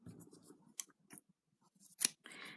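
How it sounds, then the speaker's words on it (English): Scissors snip through a strand of wool after a crochet Christmas decoration is finished, a few quiet, close cutting clicks with soft handling rustles in between. "cut the wool"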